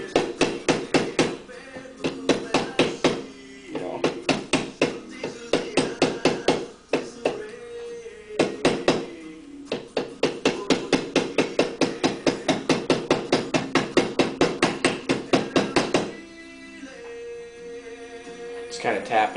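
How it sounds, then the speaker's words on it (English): A hammer taps down a pinned part resting on wood in quick, steady strikes, a sharp close knocking that runs in bursts with brief gaps and eases off near the end. "Take your hammer and just tap down on the sides."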